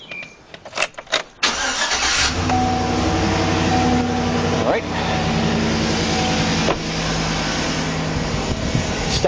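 4.8 V8 engine with a stock muffler cranks, fires up and settles into a steady, loud rumbling idle, heard up close, with a brief spoken word just before it starts.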